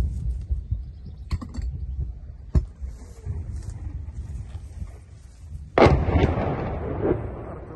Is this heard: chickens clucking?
no